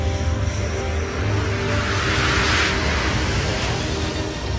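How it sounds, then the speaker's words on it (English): A Horten 229 jet fighter, a top-secret Nazi German aircraft, flies on its first flight at a remote airfield, a steady loud roaring engine drone with broad hiss that swells slightly midway. "a top-secret jet fighter makes its first flight"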